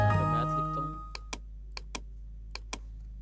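Keys are tapped on a computer keyboard while entering text into an Excel sheet, about six crisp, separate clicks heard close and quiet after a brief moment of someone speaking.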